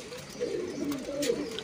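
Soft, throaty cooing rises from breeding pigeons kept in a loft, two or three low calls blending together, quiet and fairly close.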